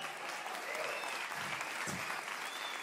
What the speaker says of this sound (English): Let's give him a big God bless you clap